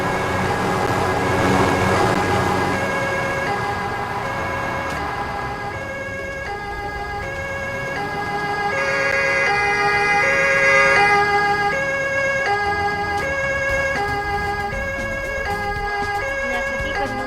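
A fire engine siren in the emergency-services video game Emergency wails continuously with a rising and falling tone, loud and close. Steady vehicle engine rumble runs underneath and no voices are heard.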